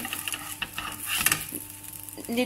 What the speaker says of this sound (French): on a toujours nos petites galettes qui continuent de cuire